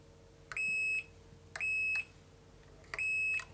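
A multimeter on continuity test beeps while checking guitar wiring: three clear, sustained high-pitched tones, each about half a second long, evenly spaced and close.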